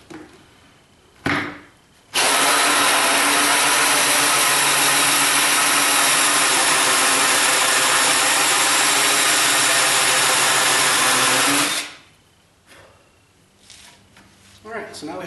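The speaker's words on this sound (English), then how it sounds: "Start drilling from the other side." A power drill whines steadily and loudly for about ten seconds drilling through plywood, starting and stopping abruptly, with brief quieter handling noise before and after.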